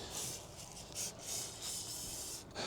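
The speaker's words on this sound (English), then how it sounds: "Spray your fucking feeler gauge down." Short hissing bursts of aerosol spray coat a rusty, crusty feeler gauge, several close pulses of spray separated by brief gaps, with rubbing noise between them.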